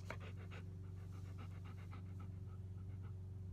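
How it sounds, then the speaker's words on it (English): A pet dog pants steadily and close by, rapid rhythmic breaths over a constant low hum in a quiet room, with no talking. "She's a dog."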